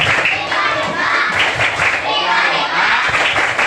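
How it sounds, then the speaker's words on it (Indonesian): Children doing the Tepuk Banyumas clapping chant in a classroom, rhythmic hand claps mixed with young voices chanting along, loud and close. "Tepuk Banyumas sekarang ya."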